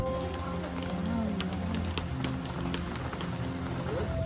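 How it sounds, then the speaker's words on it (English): Steady rain patters on a surface nearby, a continuous hiss with scattered drops, heard from inside a shuttle in Bali, Indonesia, while faint voices murmur and the vehicle hums underneath. "It's raining outside and we're in the shuttle"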